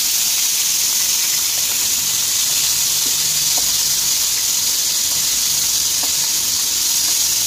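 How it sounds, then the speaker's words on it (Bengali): Chicken pieces frying in hot ghee while being turned over, a steady loud sizzle and hiss throughout with faint clinks of utensils underneath. "চিকেনের পিসগুলো আমি এপিট ওপিট করে একটু ভেজে নেব।"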